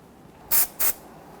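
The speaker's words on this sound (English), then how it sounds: "Now you go ahead and use some spray solvent and clean that." Spray solvent hisses from an aerosol can in two short bursts to clean a brake bleeder on a 2006-2010 Hummer H3, sharp and close against a quiet background.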